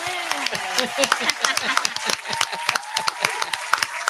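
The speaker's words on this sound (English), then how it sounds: "I'm going to clap for y'all." Hand clapping from a small group of women during a podcast-style conversation, sharp claps in an uneven rhythm close by, with talk and excited voices running underneath throughout.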